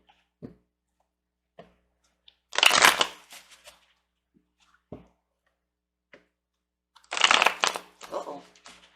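Tarot cards are shuffled in two close bursts of riffling about four seconds apart, with soft taps and handling noises between them in an otherwise quiet room.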